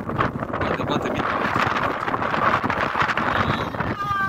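Strong wind at the Carol I Mosque in Constanța buffets a phone microphone, a loud continuous rushing roar with gusty swells throughout.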